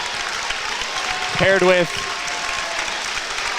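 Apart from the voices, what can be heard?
crowd applauding seniors at high school basketball game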